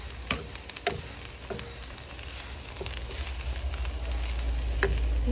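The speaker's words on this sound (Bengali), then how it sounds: "পেঁয়াজ অ্যাড করে এটাকে মিশাই দিই।" Onions sizzle steadily in a hot pan beside a bottle gourd dish, with scattered scraping knocks of a spoon stirring them, the frying hiss building slightly toward the end.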